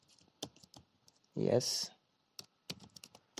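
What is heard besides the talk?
typing on a computer keyboard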